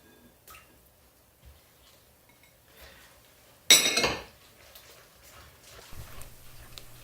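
An egg is cracked into a mixing bowl of brownie batter, a single sharp crack and splat near the middle, close and brief amid faint kitchen clinks.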